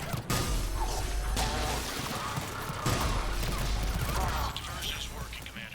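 Dense, continuous automatic turret gunfire from the video game Mass Effect 3, a loud rattling barrage with mechanical clatter and crashes filling the whole stretch, mixed with game effects.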